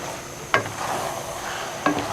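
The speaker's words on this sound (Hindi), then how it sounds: "आपने चम्मच को लाजमी साथ साथ हिलाते जाना ताकि ये नीचे से जले ना" A spoon stirs gajrela, a carrot pudding, in a pot: two distinct scraping strokes against the metal, moderately close, over a soft background hiss.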